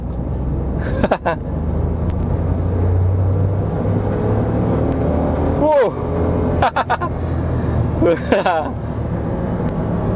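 Nissan March 2011 hatchback pulling in second gear from about 20 km/h, its steady engine rumble and road noise running continuously under speech heard throughout.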